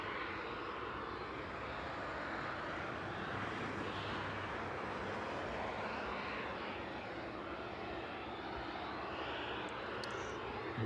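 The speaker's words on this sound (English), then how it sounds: "that cargo jet service in from Cincinnati there delayed just under an hour from its original scheduled touchdown time of 6:30" A cargo jet in from Cincinnati arriving at East Midlands Airport at night, its engines a steady, distant broadband roar that holds evenly throughout.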